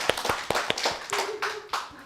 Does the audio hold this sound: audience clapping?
yes